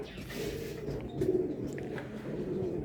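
Pigeons coo softly at a racing pigeon loft as the last bird arrives, a low murmuring coo close by over a steady background hum.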